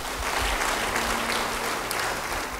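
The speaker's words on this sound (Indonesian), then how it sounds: "Yang yakin beri tepuk tangan bagi dia." A church congregation applauds steadily during a worship service, a dense, even wash of many hands clapping with no voices over it, holding at the same level throughout.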